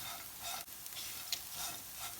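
Piriya chili powder frying in a pan for a bitter gourd curry, a soft, steady sizzle with light stirring scrapes, faint and continuous with no voices.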